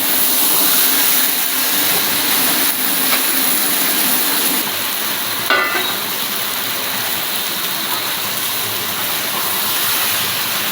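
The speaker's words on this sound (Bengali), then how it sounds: "এবার আমি মাংসের মধ্যে ভেজে রাখা আলুগুলোকে মিশিয়ে দেবো।" Meat sautéing in a pan with fried potatoes mixed in gives a loud, steady, close sizzling hiss throughout, broken by a brief clatter partway through.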